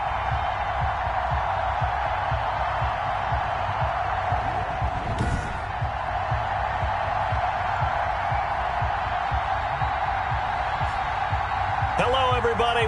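A stadium crowd in a football video game, a Buffalo Bills home game against the Los Angeles Chargers, roars in a steady loud wash of cheering that runs throughout.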